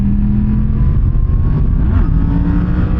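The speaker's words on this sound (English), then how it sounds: "we can do a nice wheelie uphill here" A motorcycle, following a Triumph Street Triple, revs hard uphill into a wheelie, its engine a loud, close, continuous drone with rising and falling pitch over heavy wind rumble.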